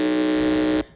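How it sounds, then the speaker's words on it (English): A quiz contest buzzer at a regional school quiz qualifier, sounding as one loud, steady electronic tone held for nearly a second before cutting off abruptly. "let me hear your buzzer"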